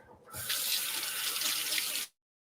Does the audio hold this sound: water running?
yes